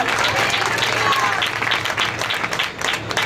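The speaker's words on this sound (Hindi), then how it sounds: "जोर से ताली बजाएंगे" A church congregation claps loudly for the second anniversary of their church. The applause is dense and sustained for about three seconds, with voices mixed in.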